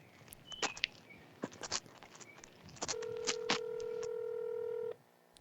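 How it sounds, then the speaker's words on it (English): Touch-tone telephone keypad dialed on speakerphone, a quick run of separate beeps followed by a steady two-second tone, close and clear with no talking. "Let me try to call him on the phone."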